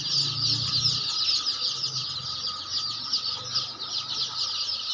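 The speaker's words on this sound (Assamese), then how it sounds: "এইটো অৰিজিনেল লোকাল মুৰ্গীৰ পোৱালি।" A crowd of local chicks cheeps and clucks continuously, with bursts of wing flapping, close and busy, with no voices.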